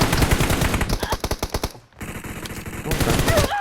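Rapid automatic gunfire in the video game PUBG, loud repeated shots in bursts, a short lull, then more firing resumes, with faint voice chat underneath.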